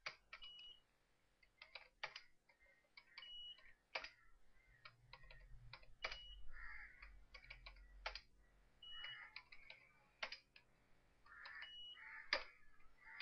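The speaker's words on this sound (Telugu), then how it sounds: "వాళ్ళ సాలరీస్ కూడా టైప్ చేస్తున్నాను." Someone types on a computer keyboard while entering figures into an MS Excel 2003 spreadsheet, producing faint, quick, irregular clicks in bursts with short pauses.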